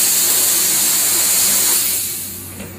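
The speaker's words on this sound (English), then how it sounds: "and we'll flush here with steam air." A steam spotting gun blows steam air through a stained fabric, treated with Frankisol stain remover, giving a loud, steady broadband hiss that holds for about two seconds and then eases off as the burst tapers away.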